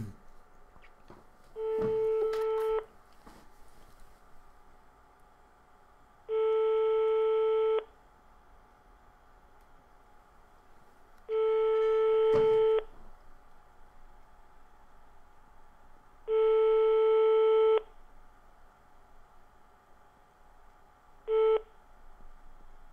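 Repeated busy or unanswered-line telephone tones on a call to a small pétanque bar, five steady beeps in an even rhythm with silent gaps between them, the last one cut short, clear and alone with no voices.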